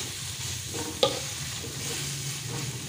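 Tongkol tuna being stirred into cooked balado chili spice paste in a pan: a steady, close scraping and sizzling texture with one sharp clink of the utensil partway through.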